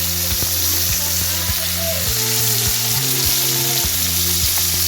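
Pond-raised Lailentika fish with a little shrimp frying in hot oil in a pan, a loud continuous sizzle with hissing crackle, punctuated by occasional clinks of a utensil against the pan.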